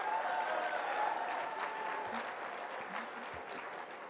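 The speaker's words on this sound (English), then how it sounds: "Give our chair a round of applause." An audience at a California Democratic Party dinner applauds the chair, producing a sustained, dense wash of clapping from a large crowd that fades slightly toward the end.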